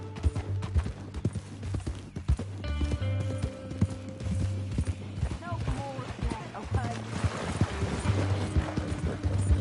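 Horse hooves clip-clop steadily in the video game Red Dead Redemption 2, a close, rhythmic trot with jingling tack and a snort, while someone speaks briefly over it.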